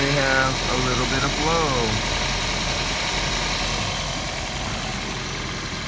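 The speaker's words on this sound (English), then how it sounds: "The compressor is running." Air-conditioning compressor on a Toyota Prius running steadily, a constant mid-low mechanical drone that stays loud and even throughout, with a faint whining tone rising and falling early on.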